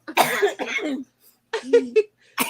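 Several rough coughs in two separate bursts with a brief pause between, close to the listener, then another cough starting at the end.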